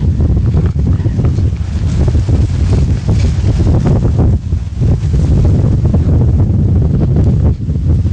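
Strong wind blowing outdoors in the Santa Cruz Mountains during a riding session, a loud, constant roar buffeting the microphone with gusty rises and no talking.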